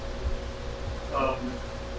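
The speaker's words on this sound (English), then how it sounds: "I apologize about the fan noise." Steady broadband whir of a large electric fan running close by in a garage workshop, with a brief mid-pitched clatter partway through.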